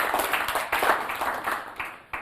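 An audience claps for a guest at a talk event in Kenya, a lively burst of many hands clapping in uneven rhythm that swells and then tapers off with a few last claps, no voices.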